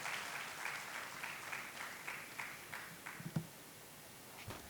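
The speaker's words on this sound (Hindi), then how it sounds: "तालियों से स्वागत करेंगे श्री आनंद मिश्रा जी।" An audience at a student parliament event in Bihar applauds to welcome a guest speaker, a former IPS officer, to the podium. The clapping is faint and distant, with a loose rhythm that thins out toward the end.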